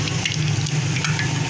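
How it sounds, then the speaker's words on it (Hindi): Chapli kababs sizzle and fry in hot oil, a steady close crackle running without pause and with no voices. "अब आपके सामने कबाब बनाएंगे तो इनको फ्राई करते हैं"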